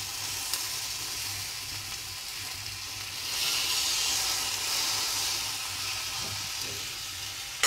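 Shrimp with garlic frying in a small amount of oil in a pan, a steady, fairly loud sizzle with a brief swell midway, running alone without any talk.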